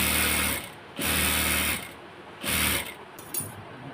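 Sewing machine stitching a narrow hem on ladies' pants, running in three loud bursts of about a second each separated by short pauses, close and alone.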